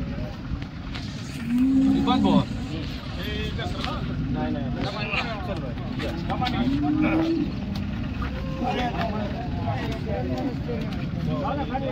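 Cattle at the Modnimb livestock market low in a couple of drawn-out moos amid a busy crowd, with continuous chatter and voices throughout.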